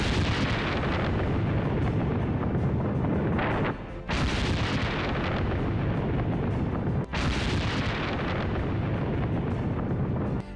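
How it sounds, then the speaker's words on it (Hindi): Air strike explosions destroying a Hezbollah military structure in Lebanon, a continuous heavy roar of blasts and rumbling with sharp fresh bursts near four and seven seconds, loud and without speech. "आसमान से एयर स्ट्राइक होती है और पलक झपकते हिजबुल्ला के आतंकी समेत पूरा स्ट्रक्चर एक धमाके में तबाह हो जाता है।"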